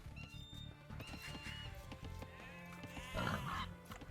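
Sheep bleat in a strategy video game, several short wavering calls over a busy background of clicks and game sounds, with a louder bleat near the end.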